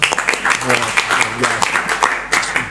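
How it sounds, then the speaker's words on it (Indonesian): An audience at an Indonesian youth talk show claps in a short, lively burst, close and fairly loud, with voices mixed in. "Tepuk tangan dong semua"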